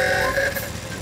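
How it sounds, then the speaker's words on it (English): A motor mower drives along in a Peppa Pig cartoon, giving a steady, buzzing engine drone at moderate loudness for about a second with no voices. "Grandpa Pig is driving his motor mower over to Peppa's house."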